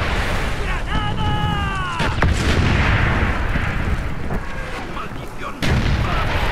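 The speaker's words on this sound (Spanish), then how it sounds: "¡Granada!" Grenade blasts and gunfire in the Call of Duty Black Ops video game: a dense, loud wash of booms and shots with a sharp burst near the end, under shouted game dialogue.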